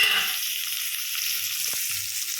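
Whole cinnamon, cloves and cardamom sizzle in hot oil, a steady close, bright hiss running alone through the whole stretch with a couple of faint soft knocks.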